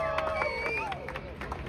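Protest crowd at a downtown Los Angeles rally making noise, a sustained dense roar of voices and whoops with scattered claps, steady and loud throughout.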